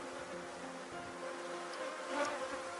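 A bee swarm hums at a beehive in a tree's shade, a continuous dense buzzing close by with a brief louder pass of a single bee near the end.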